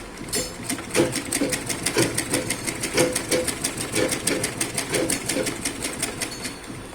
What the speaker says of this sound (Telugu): సాగదీయకుండా కుట్టాలండి. కరెక్ట్గా స్టిచ్ చేసుకోవాలి.